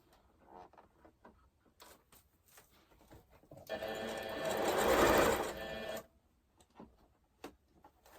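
A sewing machine stitches a fabric shopping bag in one steady run of about two seconds, loud and close, with quieter handling clicks and fabric rustle before and after.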